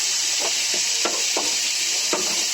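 Grated coconut sautéing in a pan for a pirandai thuvaiyal, a loud, steady broadband sizzle with a few soft stirring scrapes breaking through; no talk.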